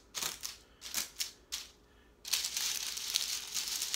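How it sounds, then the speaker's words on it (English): Crunchy dehydrated rice being mashed and broken loose from paper, giving several short crackling crunches followed by a sustained, steady crinkling and rustling, close and fairly loud. "So I'm just gonna kind of mash, kind of get it loose from the paper."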